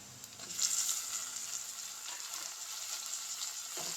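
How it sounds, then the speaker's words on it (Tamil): Tomatoes are added to sautéed onions and green chilies in a pan for a pea and potato kurma, and they fry with a steady, hissing sizzle and faint stirring scrapes. "இப்போ வெங்காயம் வதங்கிட்டு தக்காளி போட்டுக்கலாம்."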